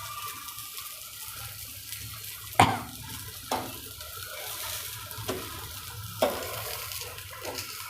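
A poha pancake roasts in a pan with a soft, steady sizzle, punctuated by a few sharp spatula scrapes and clanks against the metal.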